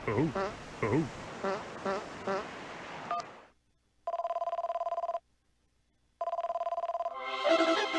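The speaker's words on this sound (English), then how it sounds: "I didn't expect the phone to ring." A telephone in the Game & Wario video game rings with two electronic trilling bursts, each about a second long with a gap between, after a stretch of lively music and effects.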